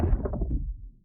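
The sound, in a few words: three layered thunder sound effects made from paper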